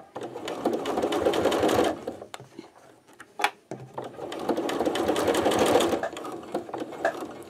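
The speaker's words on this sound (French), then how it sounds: "je pense à faire mon point arrière, consolider ma couture et je vais venir coudre toute la longueur" A domestic sewing machine stitches a seam along a fabric tube for a party card holder, with a backstitch to lock it. Two steady, close stitching runs with a brief pause between them.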